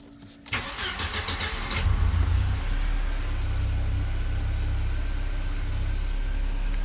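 Mercedes-Benz W201 engine cranking briefly, catching and settling into a steady low idle, heard close with no talk.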